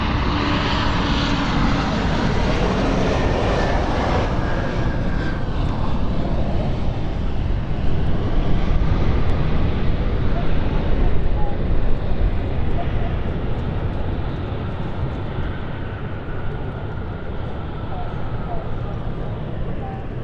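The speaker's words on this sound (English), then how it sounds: "So this is the E190 of City Flyer." A City Flyer Embraer E190 jet lands at London City Airport, a loud broad roar from engines sweeping past and slowly fading as the aircraft rolls out, with a voice talking over it.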